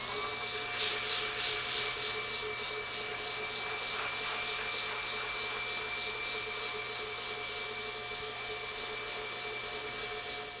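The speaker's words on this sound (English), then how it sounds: "So we'll start off with sanding." Steady, continuous abrasive rubbing of a sander working across vinyl floor tile, close by with a constant motor hum and no talking.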